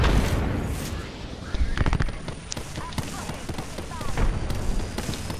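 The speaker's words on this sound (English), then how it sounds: "Oh, grenade!" A grenade blows up in the video game Apex Legends with a loud close blast, followed by a crackling burst of gunfire and impacts amid game noise, with a voice talking over it.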